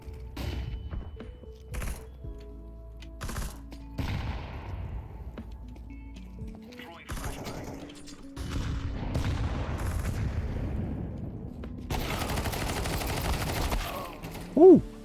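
Counter Strike 2 gunfire in bursts of sharp shots and thumping impacts, with sparse single shots and a dense volley near the end, loud and close.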